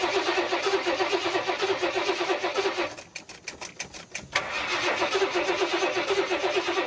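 A 1967 Buick GS340 engine cranks in a repeated rhythmic starter whir that pauses and resumes, loud and close, with a brief irregular sputter partway through as it tries to catch.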